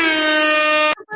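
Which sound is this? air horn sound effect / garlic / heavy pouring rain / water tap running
air horn sound effect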